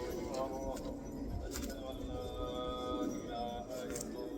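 A pigeon of the Abrash or white Mfattal breed coos softly over steady background noise and voices, its low calls repeating at a moderate pace.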